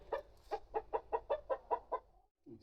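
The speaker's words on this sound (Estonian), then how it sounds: "Õnneks meil on 2 kana ja kukk." Two hens and a rooster at a countryside home give a run of about nine rhythmic, evenly spaced clucks, close and clear. A short pause follows, then a lower call.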